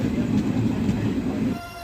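Kanpur–Raebareli 04154 passenger train rolling along the rails, a steady low rumble of wheels and carriage noise that drops away near the end, with no talk.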